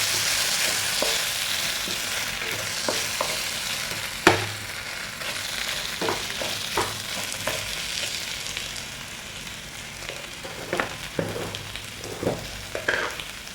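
Samosa filling being stirred and mixed in a pan, with a steady sizzle of frying under scattered scraping clicks and one sharper clack, close and moderately loud, with no talking.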